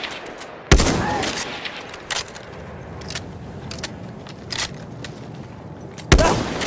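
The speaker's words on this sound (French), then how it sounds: "Là, mitrailleuse ennemi!" Enemy machine gun fire in the Battlefield 1 video game: several sharp, loud bursts of gunfire separated by short pauses, set against a steady background of battlefield noise.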